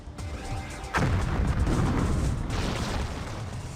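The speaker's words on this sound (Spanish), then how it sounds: "Pero la soldadura por explosión no es la única que es arriesgada" A loud explosion-welding blast on metal plates booms suddenly about a second in, then a long rumbling roar and debris hiss carry on to the end.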